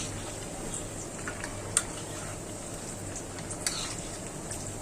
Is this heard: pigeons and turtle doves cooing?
no